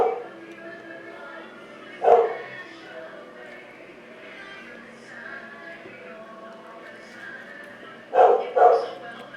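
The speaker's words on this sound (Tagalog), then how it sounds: "Ano yung mga aso?" Dogs bark a few times at a distance, one short bark and then a quick pair of barks, over a steady background murmur.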